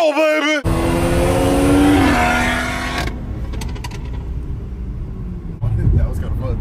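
An Audi TT spins its wheels, a loud roaring engine with a rising tonal whine and rumbling tire noise, then a quieter rolling stretch and a brief surge again, with voices speaking over parts of it.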